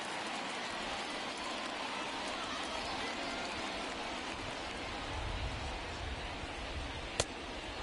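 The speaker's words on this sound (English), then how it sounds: "Light rain falling here in Anaheim." Light rain falling at a ballpark in Anaheim in a baseball video game, a steady, even hiss of rainfall with a brief sharp tap near the end.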